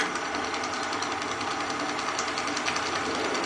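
A Van Norman cylinder boring machine runs on a Willys F-head engine block, giving a steady mechanical whir with rapid, even knocking and a bright metallic edge, close and continuous with no talk.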